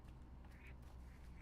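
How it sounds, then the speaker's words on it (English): Ducks quacking on the water in a video game, a low, continuous murmur of quacks that fills the short moment with no talk over it. "I mean, there's ducks in the water."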